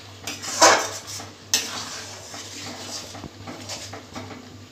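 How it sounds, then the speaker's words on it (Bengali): Mung dal stirred with salt in a cooking pot: a utensil scrapes and clinks against the pot in a few loud strokes near the start, then softer stirring continues close by. "নুন দিয়ে আমি নেড়ে নিচ্ছি।"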